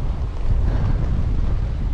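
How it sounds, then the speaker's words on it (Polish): Steady low headwind rumble buffeting the microphone while cycling on a bikepacking trip along the North Coast 500 in Scotland, a continuous close roar with no other sounds. "Jeszcze wiatr wieje w pysk,"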